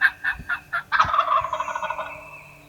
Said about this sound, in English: He gobbled at him.